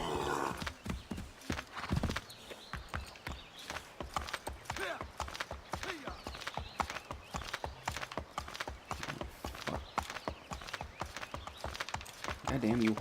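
Rapid, rhythmic clip-clop of a horse's hooves in Assassin's Creed III, a steady galloping beat with occasional snorts, while someone talks over it.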